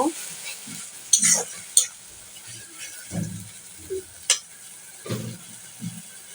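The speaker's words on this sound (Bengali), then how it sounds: "আদা রসুনটা একটু ভেজে নেব।" Ginger garlic paste fries in a pan in a home kitchen with a soft sizzle, punctuated by repeated scrapes and clinks of a spoon stirring against the metal, close and without talk.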